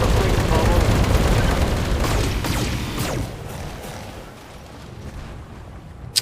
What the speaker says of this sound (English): we must have missed with the autocannon